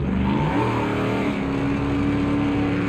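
A race car engine in the sim racing game Project Motor Racing revs loud and steady up close, its pitch climbing and shifting through gears with no talk over it.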